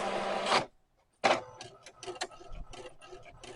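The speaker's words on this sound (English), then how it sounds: "So it looks like it's feeding fine through the printer" A printer feeds a translucent vinyl sticker sheet: a burst of mechanical whirring, a brief silent pause, then a run of small clicks and rattles as the sheet moves through, close by.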